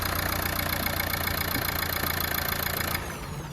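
A 2015 Renault Lodgy RXZ diesel engine with 65,000 km idles after a restart, giving a steady close rumble with a knocking edge that drops slightly in level near the end.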